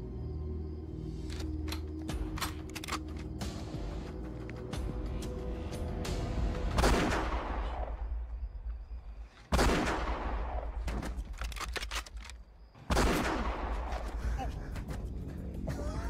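Gunfire in an action movie scene: dense bursts of rapid shots and heavy blasts over a rumbling battle soundtrack, loud and sustained, cutting off briefly twice before resuming, with voices mixed in.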